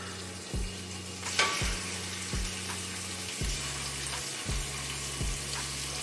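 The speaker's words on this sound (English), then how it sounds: "you're just gonna get your meat and you're gonna wanna brown it" Meat browns in an oiled cast iron skillet with a soft continuous sizzle, close but quiet. Regular low rhythmic thumps and a sharp clatter run beneath it.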